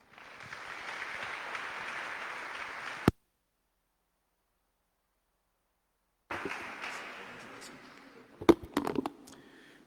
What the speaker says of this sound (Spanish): Lo recibimos con unos fuertes aplausos.